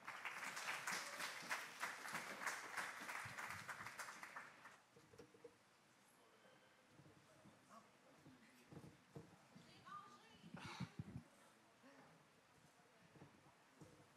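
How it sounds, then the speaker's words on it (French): A crowd applauds loudly for about four seconds, then the clapping stops and quieter room noise and scattered sounds follow. "Un d'applaudissements, s'il vous plaît."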